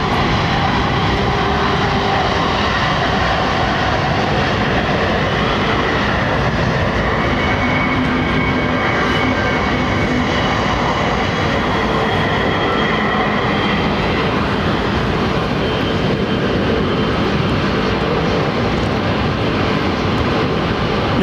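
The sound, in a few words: Egypt Air airliner with Rolls-Royce Trent engines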